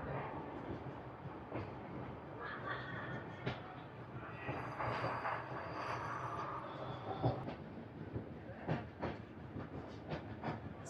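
An express train runs through a station without stopping, a continuous rumble and hiss with rhythmic wheel clatter heard from on board, moderately loud and steady, with no one speaking.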